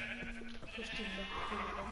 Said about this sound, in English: Oh, my blue sheep.